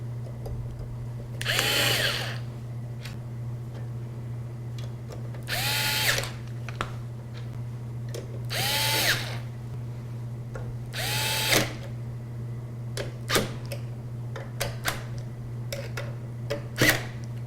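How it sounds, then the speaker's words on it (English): A power screwdriver with an auto-off clutch drives screws into a power supply bracket during a PC case build: four short whirring bursts spaced a couple of seconds apart, then several quick clicks and brief buzzes over a steady low hum. "the screwdriver that I'm using has an auto-off clutch"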